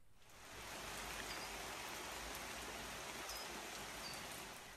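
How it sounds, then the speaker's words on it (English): Heavy rain pours outside during a thunderstorm, a steady dense hiss that swells in after a moment and holds evenly, heard faintly from indoors with no voices. "Today, we're back inside because it's pouring with rain. There's thunderstorms everywhere."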